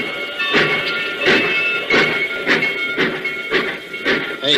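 Train sound effect in a radio drama: rhythmic chuffing bursts of steam and rail clatter, roughly every two-thirds of a second, loud and close, with a hissing undertone throughout.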